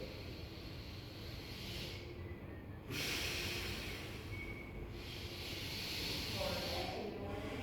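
Deep, slow breaths drawn through the nose during a breathing exercise, soft airy inhalations and exhalations repeating in a calm rhythm, close and fairly quiet against a faint background hum.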